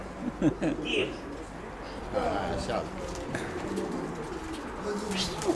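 A red-speckled pigeon coos softly and close by, its low murmuring calls surfacing between and under conversational speech from nearby people.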